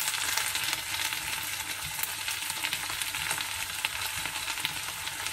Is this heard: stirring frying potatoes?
yes